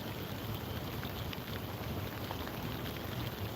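Steady rain falls outdoors during a fishing outing, a dense, even hiss of drops with no break and no voices, close and constant throughout.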